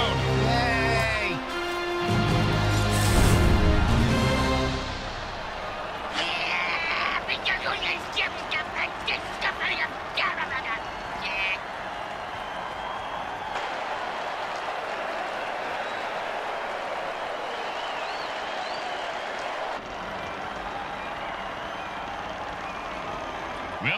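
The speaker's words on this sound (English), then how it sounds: "Listen to this crowd." Football stadium crowd roaring and applauding after a touchdown in an MFL 2023 game, a loud sustained cheer that surges early, breaks into rhythmic clapping, then settles into a steady crowd roar.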